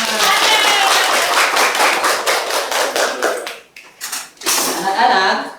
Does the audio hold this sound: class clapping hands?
yes